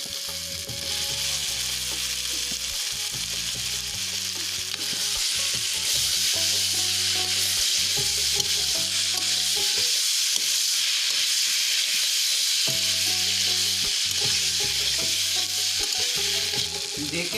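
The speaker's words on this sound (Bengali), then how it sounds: "এক মিনিট মতো এই মশলাটার সাথে আলুটাকে আবার একটু ভেজে নেব" Potatoes frying with spices in oil for a vegetarian pumpkin chhokka, a continuous dense sizzle over a long stretch with occasional stirring, while background music plays throughout.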